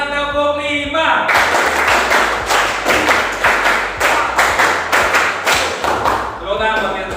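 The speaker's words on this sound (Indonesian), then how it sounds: "Tepuk tangan bagi semua" Rhythmic clapping from a group at a school session in Semarang, Indonesia, coming in sharp, patterned bursts of claps with short gaps, loud and close, with a few voices mixed in.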